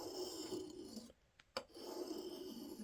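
A wooden spokeshave blade is rubbed on a sharpening stone, giving a continuous gritty rasp that breaks off for a moment with a couple of short scrapes before resuming.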